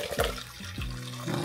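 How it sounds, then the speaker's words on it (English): Blended ginger and lemon juice pours through a sieve into a bowl, a close liquid trickle and splash with a couple of gurgling pulses. "you're going to pour it through the sieve"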